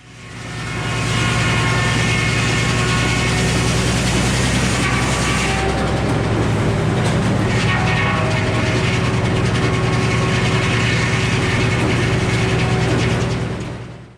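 A sawmill blade cuts through a log in a steady, loud, continuous drone of motor and blade, with a brief shift in tone midway as the cut continues, no talking over it.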